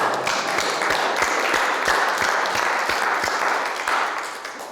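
Audience applause at a lecture, a dense steady patter of many hands clapping indoors for several seconds before gradually fading.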